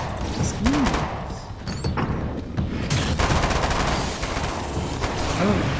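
Gunfire in Alan Wake's American Nightmare on Xbox Series, scattered shots and thuds amid a noisy combat mix with whooshing effects and creature noises, fairly quiet and irregular.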